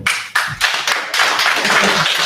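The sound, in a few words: audience clapping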